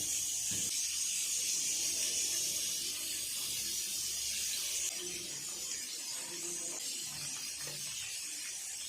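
Eggplant pieces frying in hot oil give a loud, continuous hiss and crackle that stays fairly even across the whole stretch, close by with no talking.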